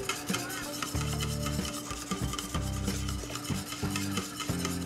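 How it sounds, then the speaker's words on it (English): Meat loaf mix being whisked in a pot, a steady scraping, rubbing stir with a rhythmic pulse that keeps going at moderate loudness throughout, with no voices. "And I'm just going to go ahead and whisk it."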